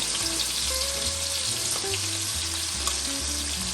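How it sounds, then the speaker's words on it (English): Pot roast meat sears in a hot pan with a loud, continuous sizzle and frying crackle, close by, with occasional stirring and no talking. "We're just searing it off"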